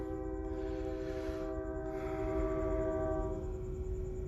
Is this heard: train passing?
yes